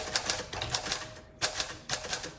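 Keys of a 1948 Smith Corona Sterling manual typewriter strike in quick bursts of muffled clacks, close and fairly soft, with two brief pauses between runs of typing.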